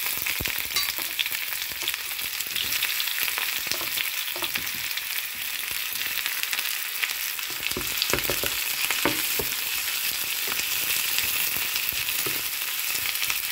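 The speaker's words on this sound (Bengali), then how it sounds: "ভালো করে এবার ভেজে নিতে হবে।" Chopped onions fry with garlic in hot oil, producing a dense continuous sizzle with crackling pops and spatula scrapes, close and steady throughout.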